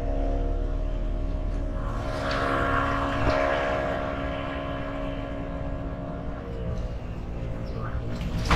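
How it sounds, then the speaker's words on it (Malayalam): A motor drone swells and fades as a speedboat passes by on open water, a broad engine roar rising toward the middle and then easing, steady and moderately distant, with no voices. "അയ്യോ, ഒരു സ്പീഡ് ബോട്ട് പോകുന്നുണ്ടോ?"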